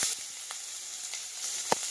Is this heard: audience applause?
no